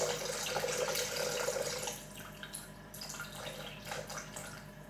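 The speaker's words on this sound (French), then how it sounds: "Ils nous disent soi-disant qu'il faut verser comme ça pour pas que ça éclabousse" Liquid poured carefully into a dish while making chicken bouchées à la reine, a continuous splashing, running stream that softens and turns into gentler trickles and small drips.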